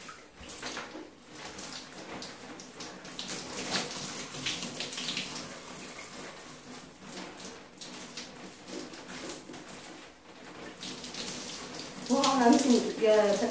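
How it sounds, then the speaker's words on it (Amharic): Lukewarm tap water runs steadily over conditioner-coated dry hair, a close, continuous splashing rush that swells louder near the end. "ውሃ ያስነካ ማለት ነው እንደዚህ ያደረኩኝ"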